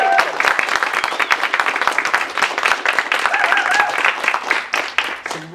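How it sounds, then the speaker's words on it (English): An audience at a film festival Q&A session gives sustained applause, a dense clatter of many hands clapping that continues steadily for several seconds, close and fairly loud. "so give them a big round of applause."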